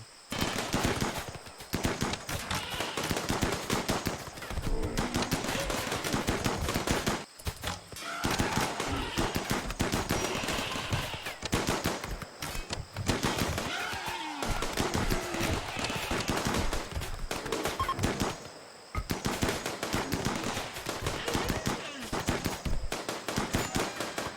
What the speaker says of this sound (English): This wave closes the distance too quickly, and thus the turrets are activated.